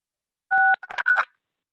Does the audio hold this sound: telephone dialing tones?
yes